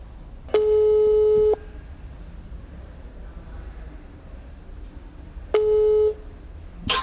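A telephone call to the Indonesian health ministry's corona hotline returns a ringback-style tone: two long, loud one-second beeps separated by several seconds of quiet line noise.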